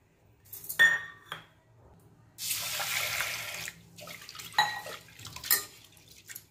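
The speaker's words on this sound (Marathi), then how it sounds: "त्याच्यामध्ये अर्धी वाटी तूर डाळ आहे, ती स्वच्छ धुवून घ्यायची आहे।" Toor dal being rinsed with water in a pressure cooker, with short splashy bursts of water and grain sloshing, a longer steady wash in the middle, then a few light clinks and swishes, close and without talk.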